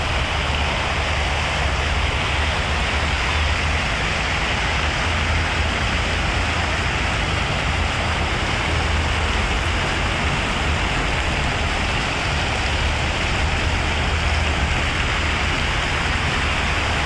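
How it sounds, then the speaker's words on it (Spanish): Water pouring steadily from park fountains at night in Maracaibo, like a cascade into a pond, a loud, unbroken rushing wash that stays even throughout, with no voices. "sentir cómo cae el agua cristalina como una cascada que brota desde una laguna"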